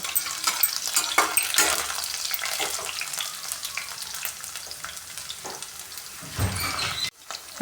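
Ginger stirred and fried in a pan with a spatula while making galgal citron pickle, a steady hiss of frying with scraping stirs, a brief louder splash of sizzle near the end.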